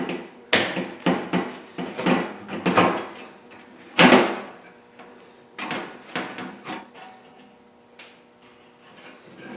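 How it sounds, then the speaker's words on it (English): Tin snips cutting a rusted sheet-metal door flange, a series of close, sharp clipping crunches and metallic snaps in uneven bursts, with one louder snap partway through. "I'm going to cut it with the tin snips and just get this one flange off"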